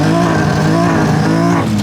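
A BMW E30 with a swapped S52 inline-six and individual throttle bodies accelerates hard, heard from inside the car with passengers aboard: a loud, continuous engine note that climbs steadily in pitch.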